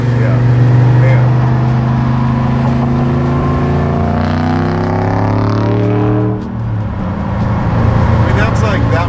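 A 600 hp supercharged 1957 Chevy V8 at close range, loud and throaty, rising and falling through a throttle blip before settling back, while voices talk over it.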